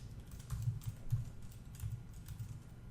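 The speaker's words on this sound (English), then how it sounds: "we type the word img" Someone types on a computer keyboard while writing HTML, giving a steady patter of soft, close key clicks with a few heavier strokes, no voices.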